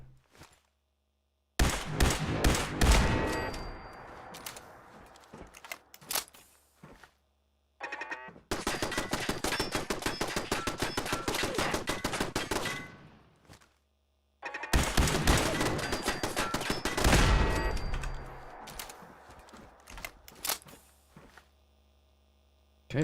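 Turret gunfire in Fallout 4, three long loud bursts of rapid automatic shots separated by brief pauses, with a low electrical hum in the gaps.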